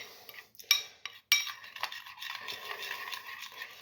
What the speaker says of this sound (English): We're just gonna go ahead and stir this bitch.